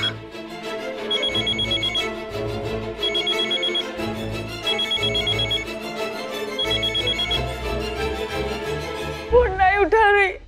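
A telephone rings repeatedly in steady bursts with short pauses between, loud and close, left unanswered; a voice rises briefly near the end.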